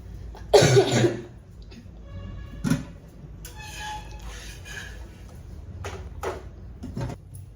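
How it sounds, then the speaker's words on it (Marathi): A person coughs hard once near the start, then gives a shorter cough, followed by quieter room sounds and a couple of faint clicks. "माझा खोकला जातच नाही."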